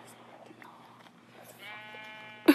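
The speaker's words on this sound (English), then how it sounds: "Sheep, I need your wool." A sheep in Minecraft Pocket Edition lets out a wavering bleat near the end, preceded by faint rustling and a soft background voice; a short sharp bleat closes the moment.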